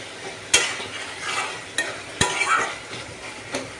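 Taro leaves fry in a pan with a continuous close sizzle while a utensil stirs, giving several sharp scraping knocks against the pan at irregular moments.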